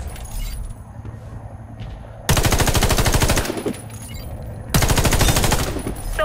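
Automatic gunfire in the Warface video game, fired through a scope at targets, comes as two sustained loud bursts of rapid shots separated by a quieter stretch of background game ambience.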